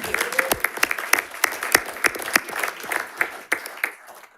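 A school board meeting crowd applauds a newly welcomed staff member with moderate, fairly dense clapping that stays steady and then thins out near the end.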